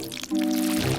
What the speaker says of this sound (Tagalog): may tumutulo sa akin at ito'y malambot at nakakadiri